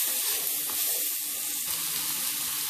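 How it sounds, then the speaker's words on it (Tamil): Sliced onions sautéing in a pan for tomato chutney, giving a steady, close sizzle with soft stirring scrapes and no talking. "வெங்காயம் நல்லா பொன்னிறம் ஆகுற வரைக்கும் நல்லா வதக்கிக்கோங்க."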